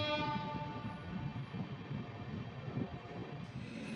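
The Maldah Town–Sealdah Gour Express rolls into a station, heard as a low, steady rumble of rail wheels with a sustained horn tone at moderate distance.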